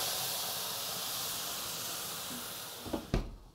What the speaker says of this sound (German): Wasser aufgießen